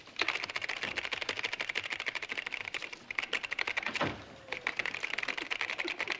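Rapid clacking on a computer keyboard in a sitcom scene, dense bursts of crisp keystrokes with a brief pause partway, close and alone without speech.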